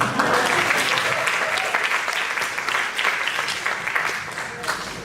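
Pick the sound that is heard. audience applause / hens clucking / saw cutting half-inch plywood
audience applause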